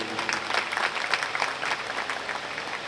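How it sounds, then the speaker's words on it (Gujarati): An audience at a Bhagwat Katha religious gathering claps together in a brief, dense burst of applause that holds steady for a few seconds at moderate distance. "એના માટે એક વખત તાળીઓ વગાડી લઈએ."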